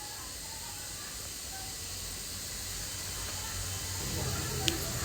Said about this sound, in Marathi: कढईमध्ये तूप घेऊन त्यात जिरं, मोहरी, थोडंसं हिंग, थोडंसं लाल तिखट